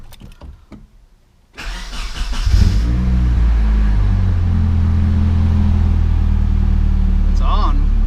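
A Nissan 240SX with a knock sensor bypass cranks and fires up after a quiet pause, then settles into a loud, steady engine drone close by, with a brief higher whine near the end.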